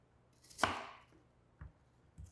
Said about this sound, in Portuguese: Agora eu vou dar mais uma picadinha só para ajudar o liquidificador.